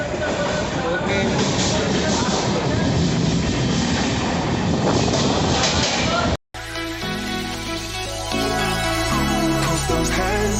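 Inside a moving passenger train, a loud continuous rumbling roar with wind-like noise fills the first six seconds, then cuts off abruptly and gives way to music.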